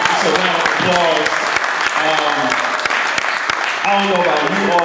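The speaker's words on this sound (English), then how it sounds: "One more time, just a round of applause." An audience claps at a community event celebrating freedom, steady crowd applause running throughout while people shout and talk loudly over it.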